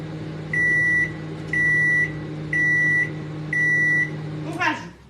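A microwave oven warms the first cake batter for a honey and almond traveller's cake, sounding four clear, evenly spaced beeps over a steady low hum, then the door clunks open at the end.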